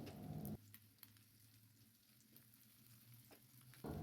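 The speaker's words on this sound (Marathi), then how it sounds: "1 मिनिट छान परतून घेऊयात" Halved eggs fry gently in oil in a pan on low heat, a steady soft sizzle and crackle, louder at the start and end, with no talk over it.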